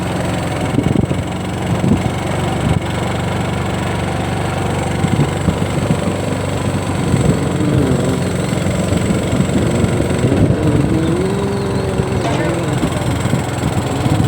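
A vehicle engine labours up a steep ghat road in first gear near Gondli Ghat, a loud, continuous mid-pitched drone with shifting revs and rattles, while someone talks over it.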